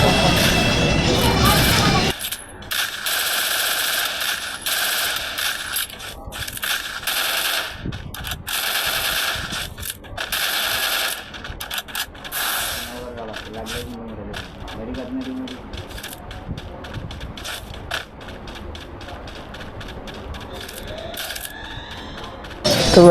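Rapid automatic gunfire and blasts sound almost without a break in a shooter video game. The firing is loud at the start, then turns to thinner rattling bursts under the game noise.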